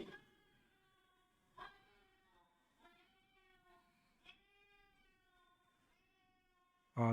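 During a ruqyah session a person's voice imitates a cat, letting out a long, drawn, wavering meow, faint and sustained, with a few soft breaks and a sudden loud burst at the very end.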